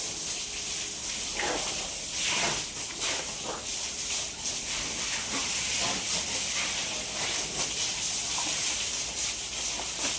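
Steady hissing spray of water washing buffaloes in a cattle shed runs continuously, with scattered splashes and thuds, no voices.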